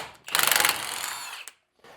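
A ratchet wrench with an 18 mm socket spins a tie rod nut loose on a 2002 GMC Sierra, a quick burst of clicking ratchet sound up close, then a brief pause and a faint resumption.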